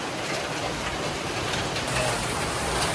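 Steady, continuous rainfall after two weeks of wet weather makes a dense, even wash of drops on surfaces, moderately loud and uninterrupted, with no voices.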